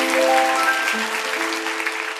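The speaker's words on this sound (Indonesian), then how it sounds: "Kasih tepuk tangan untuk Tuhan." A church congregation applauds during a sermon, a broad, sustained wash of clapping with sustained musical tones underneath, steady and fairly loud throughout.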